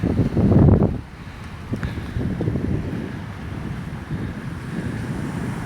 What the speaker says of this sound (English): here's the beach right out in front